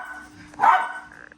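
A single loud, close dog bark or yip, alone with no talking over it, among groomed dogs wearing bandanas during a day of dog sitting.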